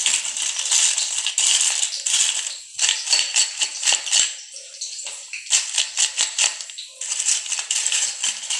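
Fried tapioca being stirred with chili powder and salt makes bursts of dry, crisp rattling and scraping, a series of stirring strokes with brief pauses between them, heard close with no talk.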